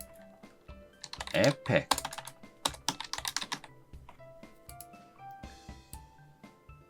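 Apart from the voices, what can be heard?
typing on a computer keyboard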